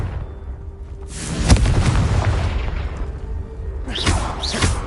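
A Confringo blasting curse in Hogwarts Legacy: a deep booming explosion with a whooshing rumble, loud and close, with a sharp thump near the middle and further swishing spell effects toward the end.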